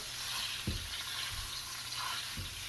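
Two pounds of sausage, one of them sage sausage, frying in oil: a steady, fairly soft sizzle with a few low thumps from stirring or shifting in the pan, and no one talking.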